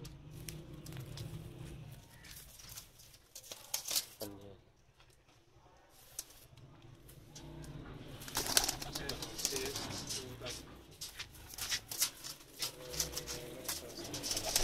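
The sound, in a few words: Pakistani pigeons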